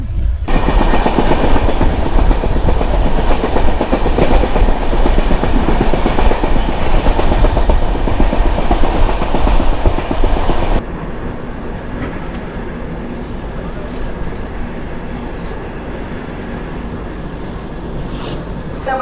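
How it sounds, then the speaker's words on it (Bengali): Running just after leaving Manikpur, the Howrah–Indore Shipra Express gives a loud continuous rolling rumble with rhythmic wheel clatter, which drops to a softer, steadier roar partway through. "আমাদের ট্রেন মানিকপুর থেকে ছাড়লো"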